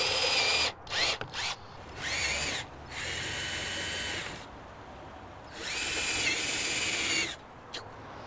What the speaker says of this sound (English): we'll do all the pre-drilling of the holes, which includes a little countersink, so that the screw heads will be flush with the wood